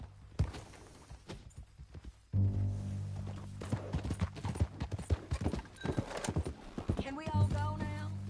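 Horse hooves clip-clopping in Red Dead Redemption 2, steady hoofbeats close by with a whinny near the end, mixed with game sounds and louder thumps.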